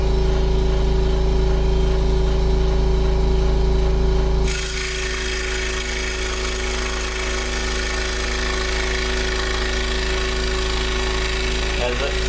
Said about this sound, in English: the scroll saw is all the way up on speed. It goes up to 1700 RPM.